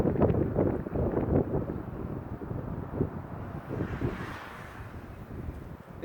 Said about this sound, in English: it's a whole lot more windy than it was the other day